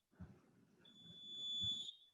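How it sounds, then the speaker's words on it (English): A fire alarm sounds indoors with a steady high-pitched electronic tone, entering partway through and holding, faint and somewhat distant, over a few low thumps. "fire alarm"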